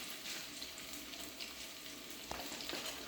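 Whole black peppercorns sauté over a turned-up burner for a Kerala-style dry coconut fish peera, giving a faint, even sizzle with light stirring scrapes and a small clatter at the close.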